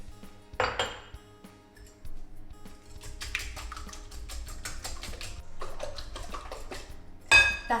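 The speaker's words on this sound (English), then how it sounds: "So in goes our cream. And then you just give that a little whisk." Whisking cream in a dish for bread and butter pudding, heard as bursts of quick metallic clinking and scraping against the bowl that start and stop, fairly close, with no talk.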